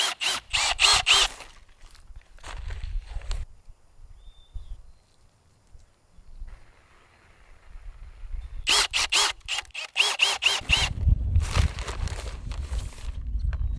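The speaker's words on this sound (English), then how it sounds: "All of the holes I'm drilling with this garden bit auger" A drill fitted with a garden auger bit bores planting holes in an Alaskan garden bed, giving two close, loud whirring bursts of a few seconds each, separated by a quieter pause.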